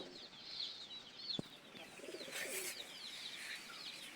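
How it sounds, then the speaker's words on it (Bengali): Soft dove calls warble faintly over a hushy background, with a brief sharp tap partway through and a brighter burst of chirping near the middle. "আমাদের যে পুষ্পরাজ ও কিন্তু আমাদের ঘুঘু পাখির সঙ্গে জোড়া ধরতে চাইতেছে"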